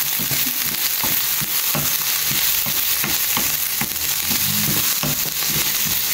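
Chilies and onions fry in a pan on a home kitchen stove, a continuous loud sizzle with crackling pops and occasional stirring scrapes throughout.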